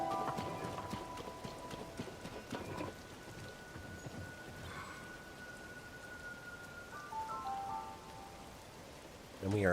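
Heavy rain hisses steadily and evenly throughout, with a few clear tones and sharp taps over it and a louder burst at the very end.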